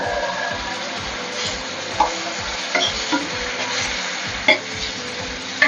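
Tomatoes, chilli powder and coriander fry in a pan under a constant, close sizzle, while a spoon stirs in a rhythmic scraping pattern with a few sharper clacks against the pan; nobody speaks.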